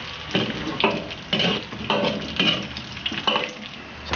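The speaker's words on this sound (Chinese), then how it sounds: "慢慢把火锅底料炒化" Hotpot soup base stir-frying in hot oil in a wok, with steady crackling sizzle and rhythmic scraping strokes of a spatula roughly every half second, close and alone.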